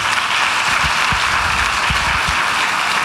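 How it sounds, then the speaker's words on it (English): An audience at a business keynote address claps in a steady, dense patter of applause that fills the room throughout, with no speech over it. "Sharon Hidalgo, can y'all give these ladies a round of applause, please?"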